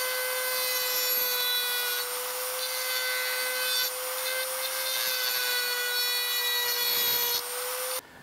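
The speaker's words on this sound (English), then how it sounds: "I put a little carbide burr on here and hopefully I can get down in there with that now." Carbide burr grinding into cracked cast iron on a Delta Unisaw foot, a steady high-pitched whining grind held for about eight seconds, loud and close, then cutting off abruptly.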